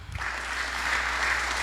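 Audience applause during a church teaching session on discerning the Holy Spirit: a steady, dense wash of clapping that starts after a brief low thump and holds evenly at moderate loudness for under two seconds.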